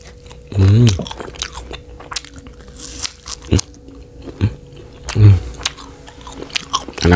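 Crunchy bites and chewing of aci tulang, a fried tapioca snack coated in spicy balado seasoning, with two loud crunching bites amid softer chewing and small crackles, close up.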